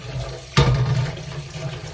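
Water suddenly splashes in and keeps running steadily into a cooking pot, close by and moderately loud.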